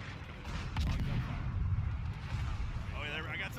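Ship guns booming in World of Warships, a dense, continuous rumble of heavy low-end fire with rolling detonations, fairly loud throughout, while voices talk over it.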